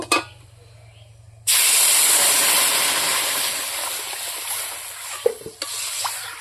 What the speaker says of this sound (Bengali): মুগের ডালটা ভাজা হয়ে গেছে, আমি এখন জল দিয়ে দিব